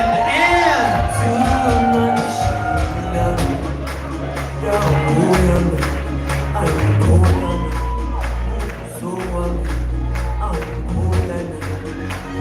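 Crowd at a wedding reception clapping and cheering for the best man and maid of honor, with shouts and whoops over dense, sustained applause close by.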